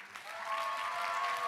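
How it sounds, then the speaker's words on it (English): Wedding guests at Priya and Karthik's reception applaud the newlyweds in a brief, steady burst of many hands clapping, heard at a moderate distance with a faint low hum underneath. "Can I please get the biggest round of applause to the newlyweds?"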